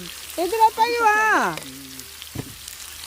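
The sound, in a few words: meat sizzling on a charcoal barbecue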